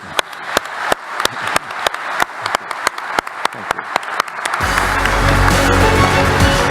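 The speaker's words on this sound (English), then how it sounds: "We should be very generous with our applause." Panel audience applauding: steady, evenly spaced loud claps close by at first, then swelling into dense, continuous applause from the whole room.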